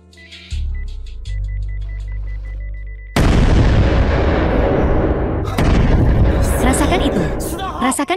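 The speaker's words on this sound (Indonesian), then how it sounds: "Oh, iya, Cheng Qian, sepertinya dia telah memasang bom di sini." A bomb explosion in a drama bursts loudly after a quiet tonal stretch, followed by a long decaying roar and a second blast with debris-like crackle.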